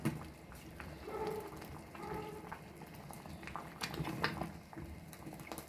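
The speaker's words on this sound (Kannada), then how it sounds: "ನೋಡಿ ಪಾಯಸ ಕುದೀತಾ ಇದೆ ಬೆಲ್ಲ ಹಾಕಿದ ನಂತರ" Temple-style payasa sweetened with jaggery boiling in a pot, a soft steady bubbling and popping with a faint, continuous simmering wash close by and no talk.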